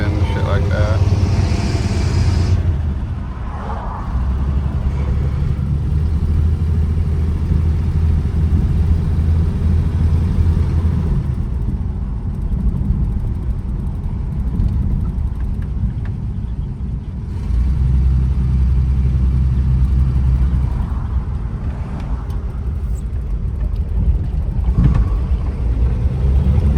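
A 1951 Chevy's old engine rumbles steadily while driving, a low loud drone with wind buffeting the microphone, and someone talks over it.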